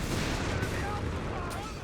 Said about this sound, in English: Artillery barrage finally going to bring down that building.